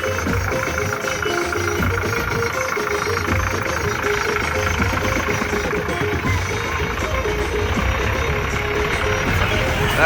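A large engine idles steadily while a reversing alarm beeps in a repeating pattern, with faint voices around.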